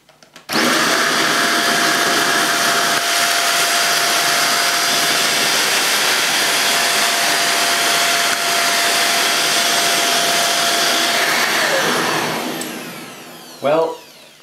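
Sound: Hoover Jovis corded handheld vacuum cleaner sucking up dirt

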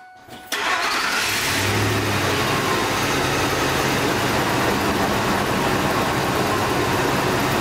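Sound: 2002 Ford F-150 4.6 liter engine starting and idling

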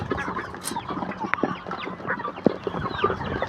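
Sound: turkeys

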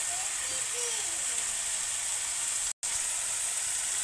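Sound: spices and masala frying in pan for mustard fish curry

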